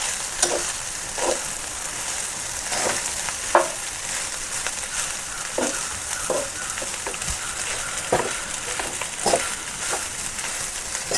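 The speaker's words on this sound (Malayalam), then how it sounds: "എന്നിട്ട് നന്നായിട്ട് മിക്സ് ചെയ്യുക" Spatula strokes scrape and knock through vegetable fried rice and coriander sizzling in a pan, irregular close stirring over a continuous gentle frying hiss, with no voices.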